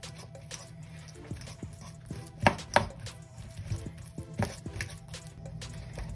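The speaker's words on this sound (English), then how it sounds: "We're just going to go ahead and get a fork and just start working at the bananas" Ripe bananas being mashed with a fork in a bowl, a run of soft squishy presses punctuated by several sharper taps of the fork against the dish, close and steady.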